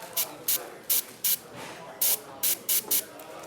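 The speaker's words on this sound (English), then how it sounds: "maybe I want to mask off with my thumb and spray right inside" Short bursts from an airbrush spray paint inside a model figure's torso, eight or so quick, sharp hisses in an uneven rhythm, close and clear over a faint background hush.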